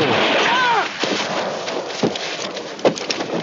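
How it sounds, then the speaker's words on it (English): Gunfire from the film First Blood, with a couple of muffled shots amid a dense, noisy outdoor rumble like rain, mixed with a brief vocal sound early on. "Did he shoot the guy?"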